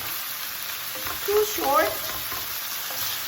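Onion frying and being stirred in a pan for ganjjajang jjajangmyeon, a steady soft sizzle with a few scraping stirs in the middle, close and moderately quiet, with a brief spoken word.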